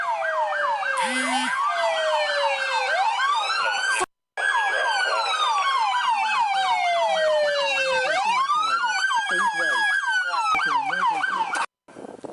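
Emergency vehicle siren wailing loud and continuous, rising and falling in sweeping tones close by during police body cam footage, with a brief cutout near the middle and only faint voices beneath.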